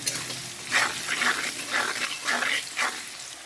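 Potatoes fry in a pan until reddish, seasoned with salt and a little turmeric, giving a steady sizzle that swells in repeated bursts as they are stirred, with no talking.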